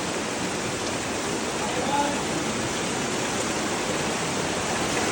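Flowing water rushes steadily and close by, a dense, even roar like a stream or small waterfall that stays constant without any break.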